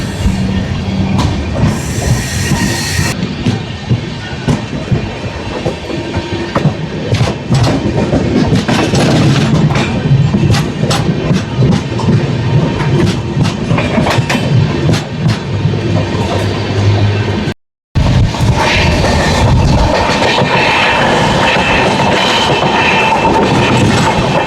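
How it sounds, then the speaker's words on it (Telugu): Padmavathi SF Express train wheels clatter over the track, a loud, continuous rhythmic clickety-clack with rumbling carriage noise, a brief silent break near the end, heard from aboard between Tirupati and Secunderabad. "కొంచెం స్పీడ్ పెంచితే ట్రాక్ సౌండ్ వస్తుంది."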